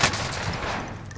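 Distant gunfire rattles in the video game Warzone Rebirth Island, a brief muffled burst of shots under steady game ambience.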